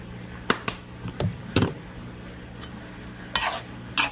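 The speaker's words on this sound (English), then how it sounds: "And just stir that around." A spoon scrapes and clinks now and then while sautéing vegetables for cauliflower stuffing are stirred in a pan. The stirs come as short separate bursts over a soft, low sizzle, close up and with no talk.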